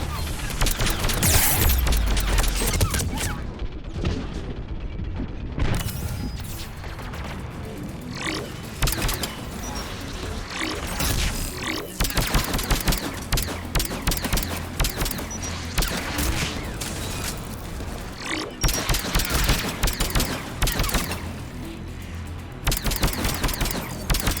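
Automated turret gunfire in the Mass Effect 3 video game, loud sustained bursts of shots mixed with game effects and combat noise running through the whole stretch.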